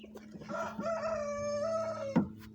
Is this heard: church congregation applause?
no